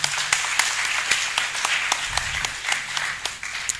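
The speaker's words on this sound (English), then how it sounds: "I'd want us to give them a big round of applause." A conference crowd applauds steadily, many hands clapping in a dense, continuous patter that holds for several seconds.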